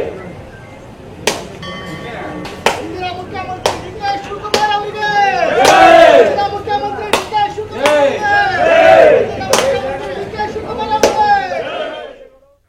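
Fans of DK Shivakumar shouting slogans in unison at a special pooja with coconuts being broken, loud group chants rising in two strong swells, punctuated by repeated sharp cracking impacts throughout.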